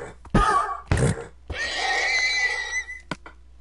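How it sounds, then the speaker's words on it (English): Horse in the Minecraft video game neighing, with two short loud snorts or grunts followed by a longer whinny, close and clear, a brief click at the end. "I hear a horse."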